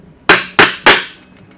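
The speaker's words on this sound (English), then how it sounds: "I'm gonna hit it with a fucking hammer" Three sharp metallic hammer blows strike the downpipe of a McLaren 600LT during a performance exhaust install, evenly spaced about a quarter second apart, close and loud with ringing decay.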